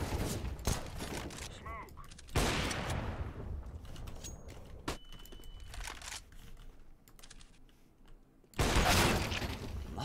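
Gunfire in Counter-Strike: Global Offensive, with loud bursts of rapid shots and single cracks broken by quieter stretches of game noise and keyboard clatter, while a player talks.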